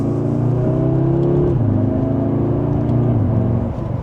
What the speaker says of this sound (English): I know it wasn't a big acceleration, but this is definitely a fun vehicle.